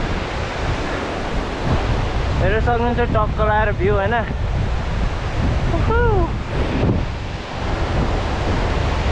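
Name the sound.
river water where two rivers meet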